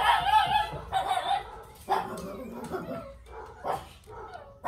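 Several dogs bark at people passing in the street, a run of loud, close barks in uneven bursts over the first seconds, then sparser yaps and whines that trail off.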